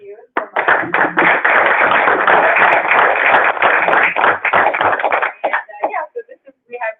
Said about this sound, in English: give everybody a hand, give you guys a hand of applause